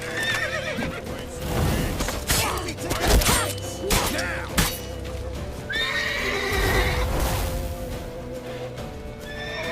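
Horse from the video game The Witcher 3 neighing and whinnying several times over galloping hooves and loud battle clatter, with busy game sounds throughout.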